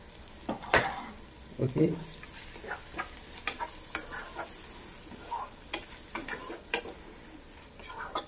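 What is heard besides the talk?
tomato and onion frying for chicken curry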